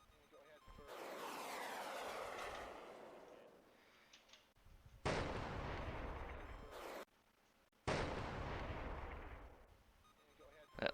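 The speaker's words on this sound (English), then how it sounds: "they're gonna start firing missiles" Missile launches in a modern naval and air combat war video game set during a Korean missile crisis: loud bursts of rushing roar, one long swelling blast followed by two sharp, sustained launches cutting in abruptly.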